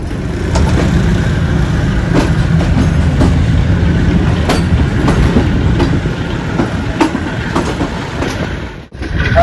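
The Musa Pak Express rolling into Khanewal Junction, with a loud, continuous rumble and rhythmic clickety-clack of wheels heard from on board, easing near the end.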